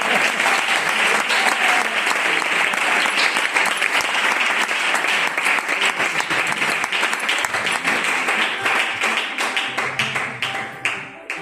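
Church congregation applauding after a sermon, a loud sustained wash of many hands clapping that gradually thins toward the end.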